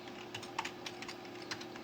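Quick, light keystrokes on a computer keyboard while C# code is entered, a steady run of close, soft clicks over a quiet hum with no voice.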